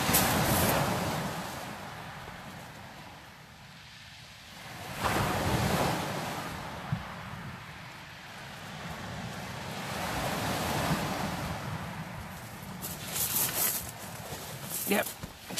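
Surf rolls onto Eastney beach, waves washing and breaking in slow surges while gusty wind buffets the microphone, loud and close, with a voice speaking briefly over it.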